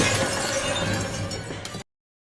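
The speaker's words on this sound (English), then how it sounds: "And there he is crashing through a door." Ghostface crashes through a door, a loud burst of splintering and shattering debris that lasts under two seconds and then cuts off abruptly to silence.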